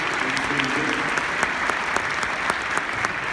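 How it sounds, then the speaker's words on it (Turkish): An audience claps steadily for several seconds, a dense spatter of applause with a few louder individual claps standing out. "küçük alkış rica edeyim"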